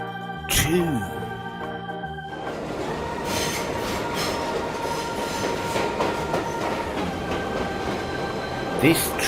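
A BRIO toy train runs along its track with a steady close rolling clatter and rattle, with a short squeaky toy sound at the start and again at the end.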